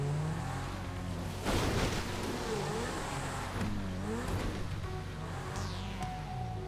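Video game cars from GTA V Online rush past one after another, engines whooshing and revving up and down as they go by, with steady background noise and no clear talking.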